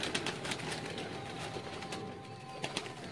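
Teddy pigeons, a pure breed held in a loft, give faint low cooing beneath a busy, noisy background, with no speech over it.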